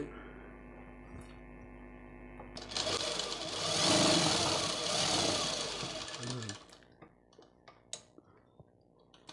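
A sewing machine stitches a saree fall in one steady burst of a few seconds, fairly quiet, between stretches of low hum and scattered clicks.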